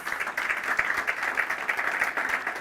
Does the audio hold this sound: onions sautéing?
no